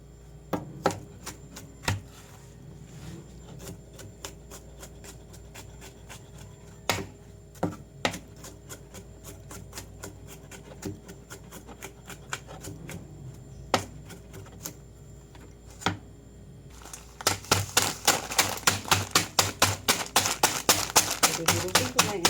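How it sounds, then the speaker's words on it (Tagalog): Chicharon pork cracklings crushed for a Kapampangan ampalaya dish make sharp, scattered crunching taps that grow into a dense, rapid run of loud crackling near the end. "durugin natin yung chicharon"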